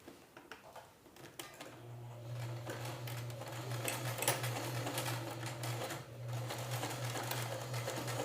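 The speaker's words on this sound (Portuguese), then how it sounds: "vou passar uma costura aqui nessa parte do zíper" A sewing machine runs steadily for several seconds, stitching along a zipper on a travel toiletry organizer bag, its motor hum continuous and close after a few brief handling clicks at the start.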